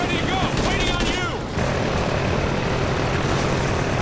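Call of Duty: Ghosts drones produce a constant whirring engine drone, steady and fairly loud, while whistling tones and voices pass over it briefly near the start.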